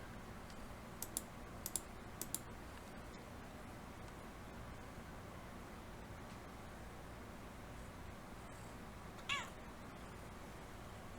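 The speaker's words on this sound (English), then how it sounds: "That's the kitty cat." A cat meows a few times, short high calls near the start and one more later, against quiet room tone with light clicking during a board game session.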